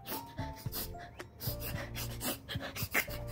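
A dog panting heavily and rapidly just before fainting from syncope, close rhythmic breaths with snorts and rubbing noises, no talk.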